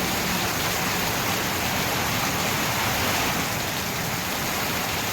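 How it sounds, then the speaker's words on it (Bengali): Heavy rain falls in large drops in a sudden downpour, a dense, unbroken roar of close, steady patter with no voices. "দেখতে দেখতে ঝমঝম করে বৃষ্টি এসে গেল। কি বড় বড় ফোঁটা দেখো।"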